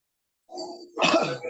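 A single close cough with a throat-clearing edge breaks out of silence during an online training session, a short rough burst followed by a second, louder one.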